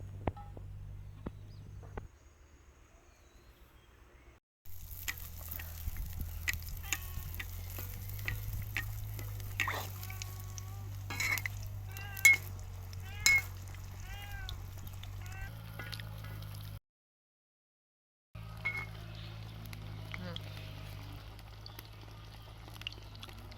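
Fluffy pitha cakes of ground coconut and date-palm jaggery fry in a little oil with a soft, steady sizzle and bubbling crackle, broken by a couple of brief silent cuts, while cat-like meows sound intermittently.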